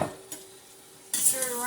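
Bacon and its grease stirred into green beans in a pot: a spoon clinks against metal, a faint sizzle follows, then a louder burst of frying and scraping close by, with no one speaking.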